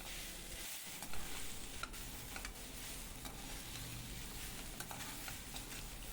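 Okra frying in a pan with salt and chilli powder, stirred steadily so a continuous sizzle and faint scraping run throughout, close and even, with no talking.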